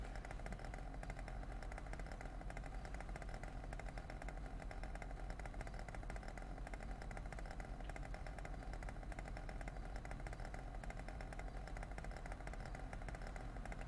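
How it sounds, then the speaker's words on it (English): Constant buzzing, rough engine drone of a vehicle in the video game San Andreas, faint and steady for the whole stretch with no talk over it. "Thing's got one hell of an engine sound to it."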